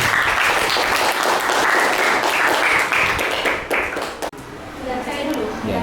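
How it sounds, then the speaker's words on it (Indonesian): A classroom of students claps for Yohanes and group 2 after their presentation, a loud burst of many small hands that fades, with children's voices chattering underneath and afterward. "Tepuk tangan untuk Yohanes dan kelompok 2."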